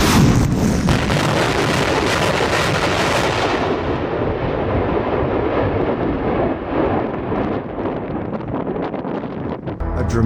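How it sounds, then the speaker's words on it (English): Ukrainian artillery firing in eastern Ukraine during the Russia-Ukraine war, a loud continuous rumbling roar of distant heavy guns and explosions, buffeted by wind noise on the microphone. "Ukrainian guns shoot back a minute later"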